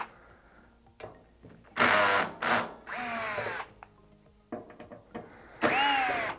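A power driver with a torque setting backs screws out of an Emotiva amplifier in several short, whirring bursts close by, separated by pauses and small handling clicks.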